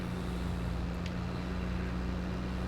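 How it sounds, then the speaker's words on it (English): A tractor engine idles in Farming Simulator 22 on a vineyard farm, a low steady hum with no variation and no voices. "I wonder how many horsepower this tractor has."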